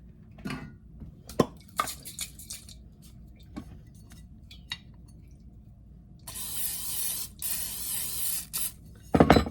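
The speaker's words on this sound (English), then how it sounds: "Spray with nonstick spray." A few short hissing bursts of nonstick cooking spray, then a longer steady hiss of several seconds, with light kitchen clatter and a final spray burst.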